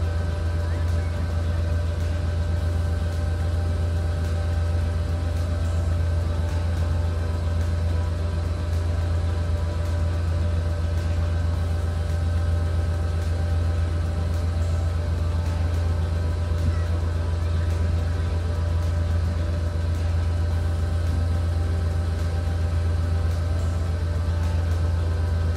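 Steady low engine hum of a 1995 GMC K2500 Suburban with a throttle body injected engine idling near 900 rpm, warming up and not yet hot, constant and unchanging throughout.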